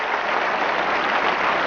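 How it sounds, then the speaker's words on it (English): A debate audience applauds the reporters on stage at a 1988 Democratic primary candidates debate, a dense, steady round of clapping that fills the whole moment without letting up. "A round of applause for our reporters here tonight, Karen Hart, Stacy Smith, Harvey Clark"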